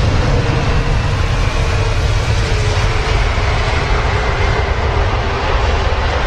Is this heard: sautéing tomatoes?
no